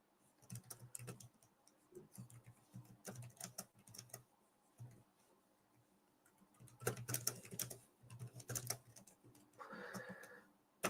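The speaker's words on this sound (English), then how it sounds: "So I wonder whether this is going to be comfortable for typing in long periods." Typing on a keyboard cover for a Boox Note Air5 C tablet, bursts of soft key clicks separated by pauses, with a denser run of taps toward the end and a faint brief rustle near the close.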